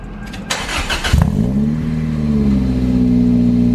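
A Toyota MR2 engine with a newly installed Garrett turbo cranks and catches, then settles into a loud, steady running hum that slowly builds.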